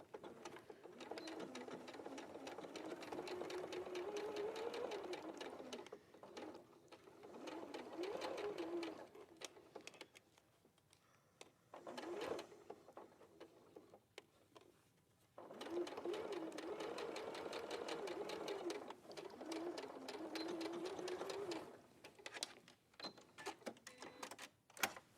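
A sewing machine stitching fabric runs in long steady whirring bursts with brief pauses between them, while people talk quietly nearby.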